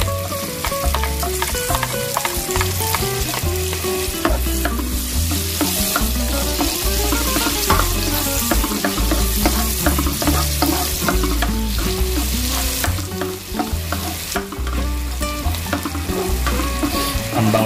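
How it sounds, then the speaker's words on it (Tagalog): Garlic sizzles loudly in hot butter in a pan for stir-fried broccoli, with a steady frying crackle and repeated rhythmic scrapes and clanks of stirring throughout, no voices. "Maglalagay tayo ng butter. Ngayon guys, maglalagay tayo ng garlic."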